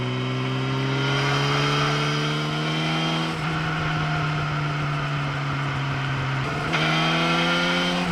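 A motorcycle engine revs while riding on a cold winter road, loud and close with a steady drone that rises in pitch, drops at a gear change, then climbs again.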